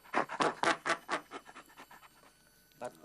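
A voice imitates a chimpanzee's laugh with a rhythmic series of breathy panting huffs, loud at first, then softer and quicker, ending with one more pant.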